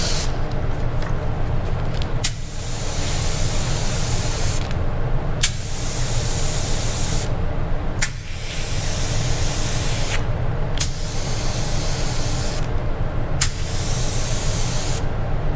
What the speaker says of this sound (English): you're gonna have trouble when you start spraying cars, not being able to control your gun that well